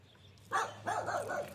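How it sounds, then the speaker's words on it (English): A small dog gives a short burst of a few quick, fairly faint barks and yips nearby in an alley-side garage setting, heard alone without talk. "Enough barking, you guys."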